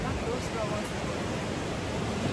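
Snoqualmie Falls roars as a steady, dense rush of falling water, loud and unbroken throughout the short stretch, with no voices.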